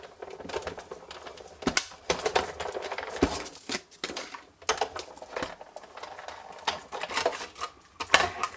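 Die cutting machine cranking a card panel through its plates, a close series of irregular clattering, rattling bursts with short gaps, no voices.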